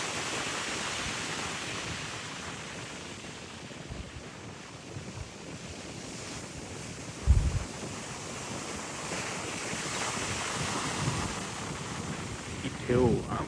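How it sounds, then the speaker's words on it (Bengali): Wind-driven ocean surf breaks steadily near Port Stephens, a continuous broadband roar of waves and gusting wind buffeting the microphone, with a few louder surges standing out from the constant wash. "ঢেউ, বাতাসের কারণে ঢেউটা বেশি হচ্ছে"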